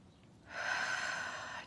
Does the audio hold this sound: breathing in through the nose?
yes